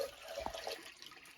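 Water poured into a pressure cooker holding bottle gourd, a soft close splash and trickle lasting about a second, with no voices.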